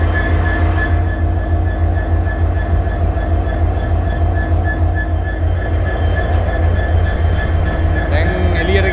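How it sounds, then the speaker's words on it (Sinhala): A class M11 diesel locomotive shunting at Trincomalee station, producing a steady, loud low engine drone with rail rumble throughout, with a voice talking over it. "දුම්රිය දැන් අර පැත්ත අනිත් රේල්වේ ට්‍රැක් එකට ගහන්න හදන එන්ජින් එකෙන්."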